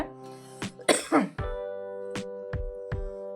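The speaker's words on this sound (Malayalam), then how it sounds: "ഇടയ്ക്കിടയ്ക്ക് ചുമ വരുന്നേ" A cook preparing a Kerala dried-fish curry coughs several times in short, harsh bursts, one louder double cough near the start followed by lighter single coughs, over a faint steady kitchen hum.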